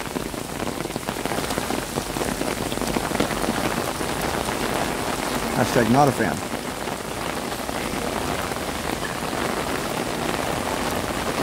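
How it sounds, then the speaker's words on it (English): Heavy rain pours steadily and loudly throughout, with a brief spoken remark partway through. "Yeah, it's pouring."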